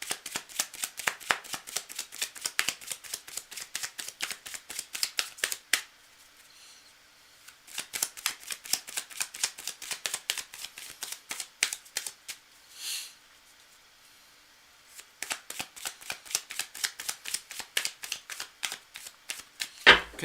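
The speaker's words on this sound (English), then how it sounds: "I'm going to shuffle a little bit more." Rapid riffle shuffling of tarot cards in bursts of crisp fluttering snaps, with a quiet pause in the middle before the shuffling resumes, close to the microphone.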